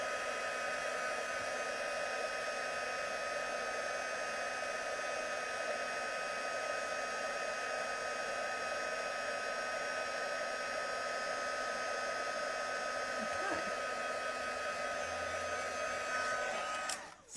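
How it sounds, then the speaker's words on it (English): Heat tool blowing steadily for about seventeen seconds to set embossing powder on a stamped card, a constant loud whooshing hum that cuts off abruptly at the end. "now we've done our embossing powder, so we can just heat that"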